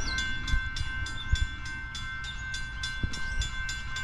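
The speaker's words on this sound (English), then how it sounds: "Third train in a half hour." Train rolling past on the Lehigh Line, heard from trackside as a steady rumble with regular clattering wheel beats over rail joints and a high sustained ringing tone, moderately loud and with no voices.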